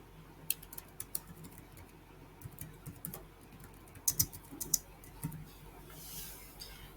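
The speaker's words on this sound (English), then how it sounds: "you're going to press Control F on your keyboard" Keystrokes on a computer keyboard, a few sharp clicks spread apart with a small cluster near the end, fairly close but quiet against a low background hiss.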